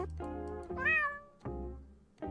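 A cat meows three times up close, each call drawn out and rising then falling, with short gaps between them and no other voices.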